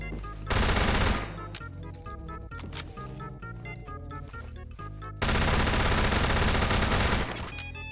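Automatic SMG fire from the first-person shooter Phantom Forces, a loud, close stream of rapid shots in two sustained bursts separated by a short pause, with no talk.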